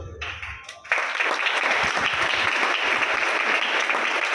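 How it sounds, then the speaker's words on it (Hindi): After a brief quiet moment with a low hum, applause from the audience at a Jain Sunday sermon bursts in and continues as a steady, loud wash of many clapping hands. "ताली बजाओ तो अच्छे से बजाओ, नहीं तो बिल्कुल मत बजाओ"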